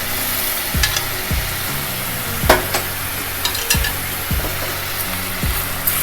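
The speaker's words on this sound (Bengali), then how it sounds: "আদা রসুনের পেস্ট দিয়ে খুব ভালো করে নাড়াচাড়া করতে হবে।" Ginger-garlic paste stir-fried over a medium flame in a pan after lightly fried onions, a loud continuous sizzle with repeated scraping strokes of a spatula across the pan, no talking.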